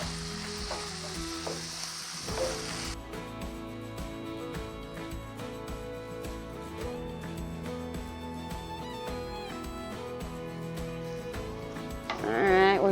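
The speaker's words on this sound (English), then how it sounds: "we're just going to brown that up" Chicken and celery sizzle and brown in a frying pan, a steady hiss running underneath while a person talks and stirs, and the frying grows briefly louder near the end.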